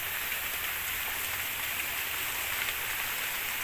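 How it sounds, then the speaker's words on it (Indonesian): Heavy rain pours steadily on a treehouse by a river, a dense, loud, continuous hiss with no pauses and no one speaking. "makin deras hujannya"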